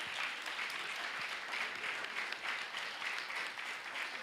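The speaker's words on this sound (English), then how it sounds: "give them a big round of applause" Audience applauding performers at the end of a concert in Budapest, dense even clapping from a large crowd heard from some distance, sustained and uniform throughout.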